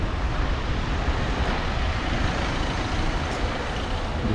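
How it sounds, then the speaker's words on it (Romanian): Heavy rush-hour traffic in the rain, with trucks and buses, sends a dense, continuous low roar and broadband hiss that holds steady throughout, close and enveloping with no talking. "Din cauza condițiilor meteo, traficului sufocat."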